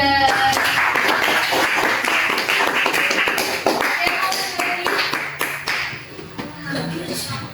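Students in a classroom clapping for a presenting group, brisk, close, irregular hand claps sustained for several seconds, loosening and tapering toward the end, with voices mixed in.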